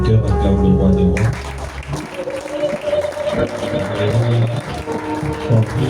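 Church congregation applauding and cheering together, a dense steady wash of clapping under music that carries on without a break.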